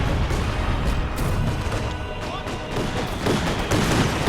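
Artillery fire rains down in Company of Heroes 2, a continuous dense barrage of thuds and cracking blasts with no pause.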